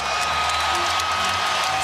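A basketball arena crowd in a close Lakers versus Celtics game, rising to its feet with a dense, sustained roar of cheering and applause that fills the space without letup.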